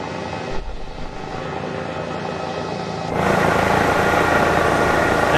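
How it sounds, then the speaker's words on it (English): An H-135 helicopter in Microsoft Flight Simulator 2020 whirs with a steady broadband rotor and turbine roar, then climbs abruptly to a louder, brighter drone partway through, with no talking. "First time I've used this version of this helicopter"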